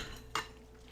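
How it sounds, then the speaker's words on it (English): Pasta being stirred into tomato sauce in a pot, heard as a single quick scrape and clink of a utensil against the pot over a quiet kitchen background. "Then I will start stirring."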